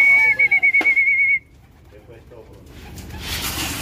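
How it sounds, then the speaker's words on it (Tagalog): Imported pigeons coo and call at a bird market in Valenzuela while being fed, a close run of repeated pulsing notes, then quieter rustling and background noise. "pakain para makita nyo yung mga ibon."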